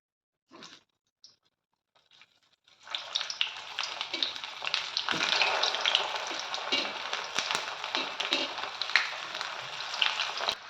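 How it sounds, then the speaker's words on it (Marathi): Bottle gourd muthiya dumplings deep frying in hot oil: a couple of faint knocks over near silence, then a loud, dense crackling sizzle that swells as they hit the oil and keeps bubbling steadily. "आता मी हे गार करून घेते आणि डीप फ्राय करून घेते"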